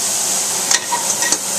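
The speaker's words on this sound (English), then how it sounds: "Gonna let it saute a little bit." Fresh cut vegetables sautéing in butter in a pan give off a steady, close sizzle and hiss, with a few soft stirring scrapes breaking through the constant frying noise.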